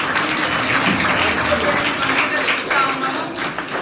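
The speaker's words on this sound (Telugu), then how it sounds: "ఇన్ఫోసిస్ వారికి స్పెషల్గా అందరూ చప్పట్లతో థ్యాంక్స్ చెప్పాలి" Schoolgirls at a model school clothing and textbook distribution event clap together to thank Infosys, a dense, steady roar of many hands in a large gathering, lasting throughout with faint voices mixed in.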